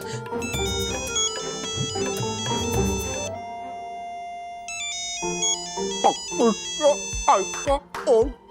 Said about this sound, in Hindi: आदित्य भाई का फोन